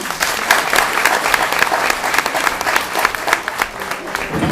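Loud, steady applause from a live audience at a radio station comedy show, dense clapping sustained throughout with no pauses.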